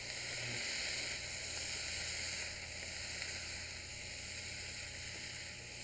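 Snow peas, rice and vegetables sizzle in a wok as a steady, dense hiss that holds at an even level throughout, close by with no voices.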